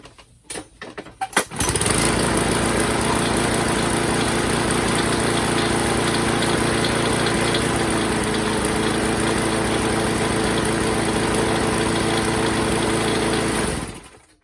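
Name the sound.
Briggs and Stratton 6.5hp Craftsman lawn mower engine idling, rattling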